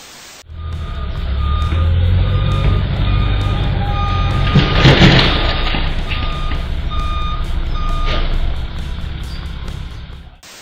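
A garbage truck reversing, its loud repeated backup beeps sounding at a steady rhythm over a heavy rumbling engine, close by and without talk.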